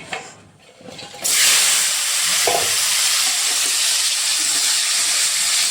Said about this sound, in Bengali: পটলটাকে এভাবে একটু লাল করে ফ্রাই করে নেব।